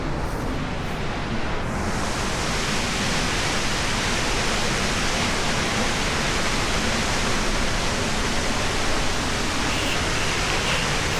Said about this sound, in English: That is Juneau Falls.